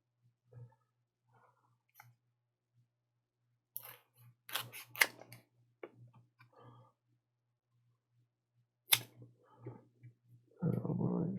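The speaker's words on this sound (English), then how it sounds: "So what I'm going to do is I'm going to cut a piece of this foam. Cut some of this foam here." Someone cuts a piece of foam by hand, giving a few separate snipping and crunching cuts spread over a quiet background with short pauses between them, and a louder rustle at the end.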